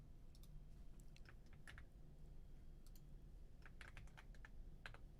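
Keys clatter on a computer keyboard in irregular bursts of quick clicks, fairly faint over a steady low hum, with a pause in the middle before the typing resumes.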